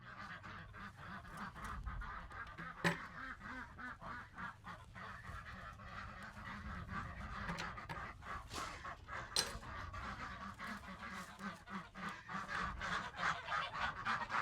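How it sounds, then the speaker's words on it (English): Ducks and geese call repeatedly and excitedly, a dense chorus of honks and quacks, fairly close, with rustling and shuffling underneath. "As you can hear, the ducks and geese are anxious to get out."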